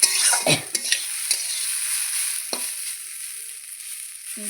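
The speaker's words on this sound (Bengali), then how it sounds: "ভাজা হচ্ছে" Food fries in a wok over a burning earthen stove, with a constant sizzle and a few sharp scrapes of stirring near the start.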